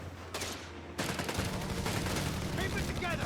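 Video-game battle gunfire from M1 Garand rifles and Browning machine guns in Company of Heroes 3, a dense, continuous crackle of shots rising to full loudness after a brief lull, with overlapping bursts throughout.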